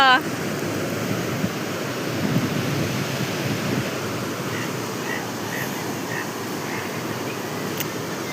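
Sea waves washing up on the beach at Mandarmani, a loud continuous roar of surf and wind noise throughout, with a brief voice at the very start.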